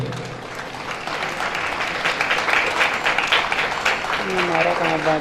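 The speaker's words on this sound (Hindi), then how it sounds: "तालियां बजती रहनी चाहिए।" Sustained applause from an audience at a school annual function during an envelope unveiling by guests, steady dense clapping throughout with some voices and a brief tonal sound near the end.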